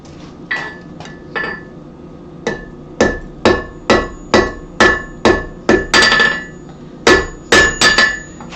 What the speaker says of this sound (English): use my peen instead of the edge of the hammer